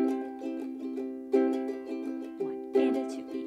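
Ukulele strummed in a steady down-up pattern with accents on certain strokes, bright repeated chords played alone and close, some strums hitting noticeably harder than the rest.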